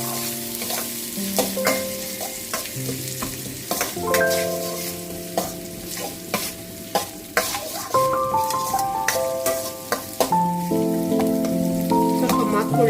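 Onions frying in a pan for Punjabi rajma curry, stirred repeatedly: a steady sizzle with frequent scraping, clinking utensil strokes, close and fairly loud throughout, with no talking.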